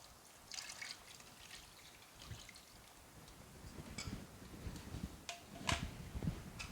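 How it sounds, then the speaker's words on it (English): Coconut milk poured into a simmering armored catfish curry hassar, a soft trickling, liquid sound with faint drips and a few sharper clinks near the end, close and quiet. "Adding the coconut milk now."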